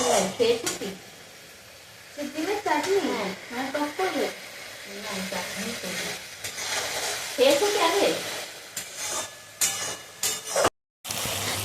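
Spice paste with ground coriander and cumin fries in oil while a spoon scrapes and stirs the pan, giving a soft continuous sizzle broken by repeated scraping strokes, with a person talking over it.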